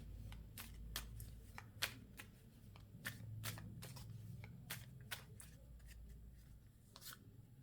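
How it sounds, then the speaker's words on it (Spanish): Tarot cards being shuffled and drawn, a run of crisp riffling and sliding snaps spread through the stretch at close range over a low background hum, with no talking. "Y ahora sacamos las cartas cósmicas para compensar un poquito la tirada."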